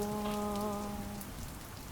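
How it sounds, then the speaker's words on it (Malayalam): Steady rain pours down in a continuous broadband hiss, and a sustained voice holds a tone over it for the first half before fading. "നമ്മള് ഒട്ടും പ്രതീക്ഷിക്കാതെയാണ് മഴ വന്നത്"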